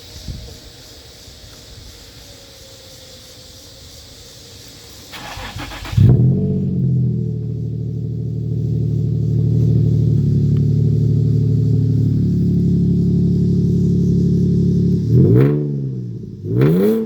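A Nissan 350Z with a VQ engine and deep aftermarket exhaust starts up after a quiet stretch, settles into a loud, low idle, then is revved twice in sharp bursts near the end.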